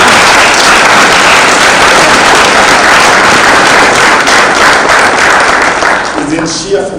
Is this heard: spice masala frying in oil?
no